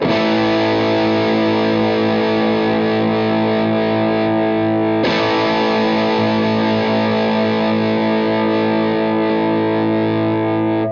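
A guitar played through a small mini amp with the gain backed down and the bass dialed in, giving a tighter, moderately distorted tone that rings steadily and loudly, with a fresh strum about halfway through.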